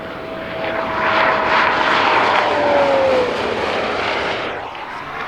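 A Bugatti Chiron roars past during a top speed run, a loud sustained rush of wind and engine that builds, holds for a few seconds and then fades slightly as it moves away, with no talking.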